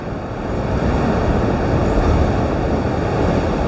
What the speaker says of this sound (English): some of these waves are getting big now